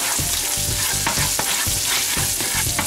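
Shallots frying in bacon grease in a pan on the stove, steady loud sizzle with repeated clacks and scrapes of stirring, no voices.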